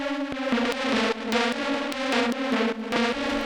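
A distorted sawtooth synth in an industrial techno track in Ableton, roughened further by a modernizer effect that adds crisp, noisy grit: a loud, sustained buzzing tone broken by regular percussive stabs, with no voices.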